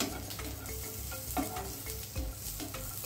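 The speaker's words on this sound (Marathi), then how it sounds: "लसणाच्या पाकळ्या पण कांद्यासोबत छान असे परतून घेऊ" Garlic cloves sauté with onion in a pan for cauliflower fry masala, making an even, close sizzle with soft stirring scrapes throughout a short stretch, and nobody speaks.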